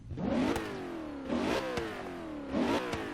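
BMW M3 engine in Forza Horizon 3, a high-displacement six-cylinder revving up three times in quick succession, each rev climbing sharply then dropping, close and loud with no talk.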